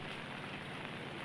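Heavy rain pours down in Bengaluru, a dense, even patter on surfaces with scattered drops, fairly faint and continuous, without voices.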